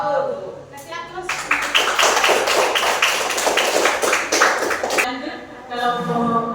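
An audience bursts into sustained applause, a dense run of claps lasting several seconds with people talking before and after.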